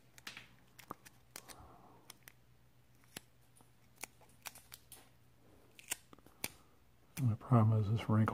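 Scotch tape handled for nail art: a string of sharp, brief clicks and crinkles at close range across the clip, ending in a louder burst of rustling and crackling.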